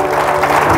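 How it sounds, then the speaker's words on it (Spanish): Applause from a church congregation after a sermon blessing, short and loud and cut off within a second. "aplauso"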